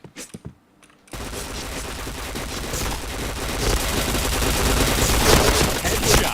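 Dense, continuous automatic gunfire from a shooter video game, with a few isolated shots first, then a sustained roar of rapid fire and explosions that keeps building to the end.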